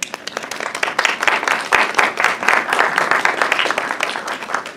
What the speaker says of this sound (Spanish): yo pido un aplauso para el equipo, para los consejeros y para los medios